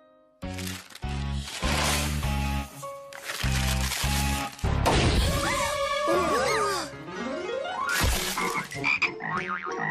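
Cartoon frogs croak loudly in a burst of comic, rhythmic ribbits, mixed with a crash and springy sound effects in an animated children's show.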